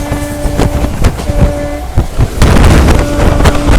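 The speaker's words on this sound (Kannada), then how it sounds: "ಕೈ ಹೊರಗಡೆ ಇಡೋಕ್ಕೂ ಆಗ್ತಿಲ್ಲ, ಅಷ್ಟು ಗಾಳಿ ಬರ್ತಾ ಇದೆ ಈ ಸ್ಪೀಡ್ ಹೊಡೆಯೋದು ನೋಡಿದರೆ" Strong wind rushes past an open window of a speeding general-class passenger train running from Hosapete to Pune, a loud, steady broadband roar with rattling and clattering, swelling heavier in the final second and a half.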